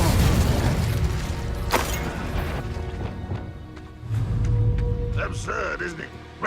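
Hogwarts Legacy spellcasting: an Incendio fire spell bursts out amid heavy booms and crashes, with sharp impacts and a short swelling roar near the end.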